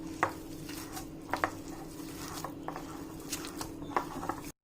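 Chicken kebab mixture being stirred with lemon juice in a bowl, soft squelching and scraping with a few sharp taps of the utensil against the bowl, close and quiet.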